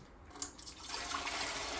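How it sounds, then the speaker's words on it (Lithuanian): Water pours into the reservoir of a Lavazza LB 2302 coffee machine being prepared for descaling, a soft steady trickle that swells into a fuller stream over under two seconds, quiet and close with no talk. "Įpilkite maždaug litrą vandens."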